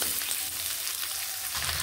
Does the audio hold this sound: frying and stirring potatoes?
yes